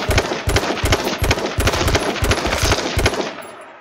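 Rapid bursts of automatic gunfire from the video game H1Z1, loud and close, firing in short repeated volleys about every half second with no talk over them.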